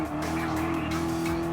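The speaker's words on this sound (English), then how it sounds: "looks like another Dodge Charger passes me" A Dodge Charger SRT Hellcat race car in Gran Turismo Sport roars steadily with a dense, loud engine drone and a steady tonal whine, with tire noise layered in, continuous throughout.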